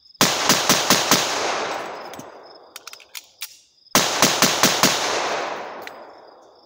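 A handgun fires a rapid string of five shots in a freestyle drill with a slide-lock reload. A few faint clicks follow, then another quick burst of five shots. The reports are loud and close, with a ringing decay.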